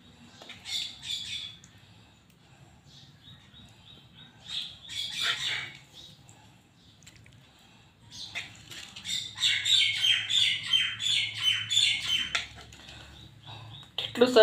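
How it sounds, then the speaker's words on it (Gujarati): A bird calls outdoors while pecking at grain set out for it, giving bursts of squawky, chirping calls that come and go, with a longer, busier stretch near the end over low background noise. "એટલું સરસ મજાનું પક્ષી બોલે છે ને."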